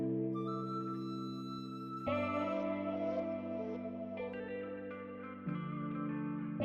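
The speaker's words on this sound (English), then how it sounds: "we are going to add some reverb on it by itself." Flute loop in FL Studio drenched in reverb, sustained melodic tones shifting in steps with a lingering echoing tail, playing alone and fairly soft.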